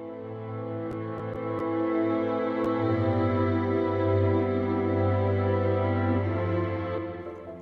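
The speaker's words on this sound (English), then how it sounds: "These are string samples from Logic Pro to Studio Strings" Layered violin, viola and cello samples from Logic Pro Studio Strings hold a sustained chord that swells gently and then fades, with a few soft plucked attacks near the start.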